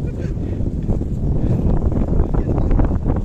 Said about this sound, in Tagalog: Guys, ang dami electric fan dito